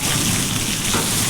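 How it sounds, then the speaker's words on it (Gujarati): Heavy rain pours down hard during a thundery Gujarat downpour, a loud, dense, unbroken hiss that stays steady and close for the whole short stretch. "વરસાદ તો બહુ આવે હો"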